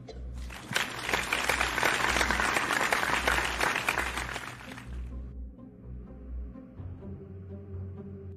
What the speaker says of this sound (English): A round of applause for Jesus